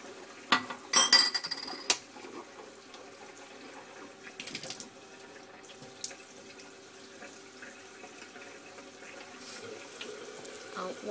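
Water running into a sink while a mouth is rinsed with salt water, a faint steady trickle with a few louder splashes and clinks near the start, heard alone in a quiet room.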